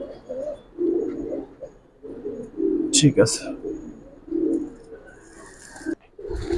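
Old-breed Giribaz and coloured pigeons coo in low, repeated bursts close by, while someone talks over them with short pauses between phrases.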